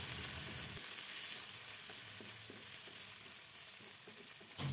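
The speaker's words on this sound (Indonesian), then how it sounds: "Setelah itu kita masukkan cabai hijaunya, kita tumis sampai layu." Green chilies stir-fried in a pan with shallots and garlic, a steady broadband sizzle running throughout, close and fairly quiet, with faint stirring scrapes.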